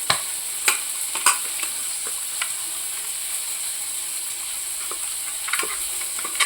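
Katla fish fries in a pan with a steady, bright sizzle, close by, punctuated by occasional light clicks and scrapes of a utensil stirring, with no talk.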